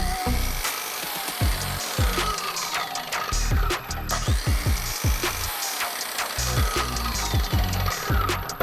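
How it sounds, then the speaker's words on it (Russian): A Makita 5477NB hypoid circular saw starts up repeatedly, each start a loud whining pitch sweep with a slight jerk, close by and heard alone without speech. "Пила при запуске немного дергается."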